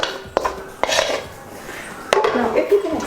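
Cheesecake base mixture goes from a bowl into a buttered baking pan, with a few sharp clinks of a utensil against the dish and soft scraping between them, close up and without talk.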